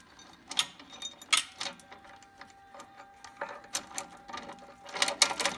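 A chain clinks and rattles as it is wrapped around an Eibach Sportline coil spring on a Fox Body Mustang, with sharp irregular metallic ticks and taps at close range and quiet pauses between them.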